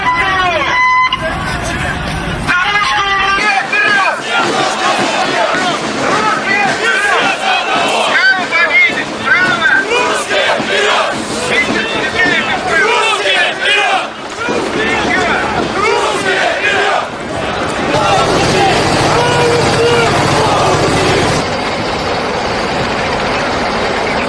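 Large crowd of about 7,000 radical nationalist demonstrators at the annual Russian March, a loud, dense mass of chanting and shouting voices that carries steadily throughout.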